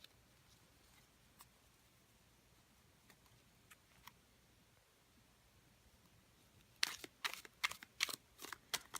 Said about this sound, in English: So they shuffle really, really well. They really glide.